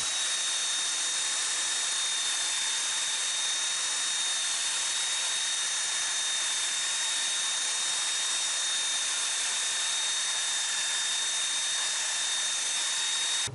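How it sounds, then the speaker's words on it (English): Power thickness planer and belt sander working a cedar plank scarf joint, a loud, continuous high whine with a steady tone running unbroken from start to finish, with no voices. "removing a whole bunch of material as fast as I can with my power thickness planer, and then cleaning it up with the belt sander"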